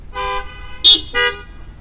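Car horns honk at a drive-in worship service, three short toots in quick succession with a brief brighter beep between them, fairly close and clear over a quiet background.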